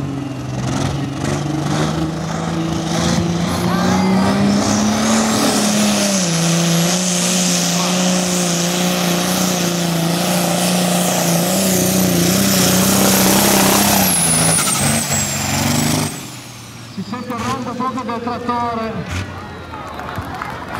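A 1200-1500 horsepower tractor-pulling tractor roars loud and close, its engine note climbing and holding steady for about fifteen seconds before cutting off abruptly into quieter crowd and arena noise.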